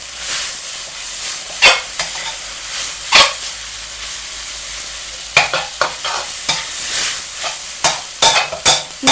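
Pad thai noodles sizzle in oil in a pan, a steady broadband hiss broken by repeated sharp scraping and stirring clatters, loud and close with no talking.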